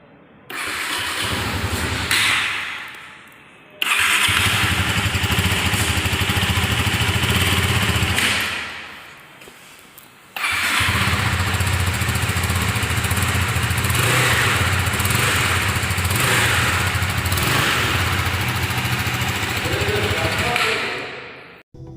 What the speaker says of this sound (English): let's see the exhaust note of the Duke 390